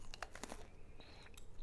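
Crunchy Globe grapes from Peru are bitten and chewed up close, with several sharp crisp crunches in quick succession followed by softer chewing.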